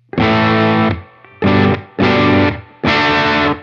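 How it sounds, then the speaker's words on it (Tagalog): Electric guitar played through a Revival Drive overdrive pedal, four loud distorted chord strums in bursts, each ringing briefly before being cut off, with no talking. "Meron nakabukas na number 4 sa loop, which is my revival drive."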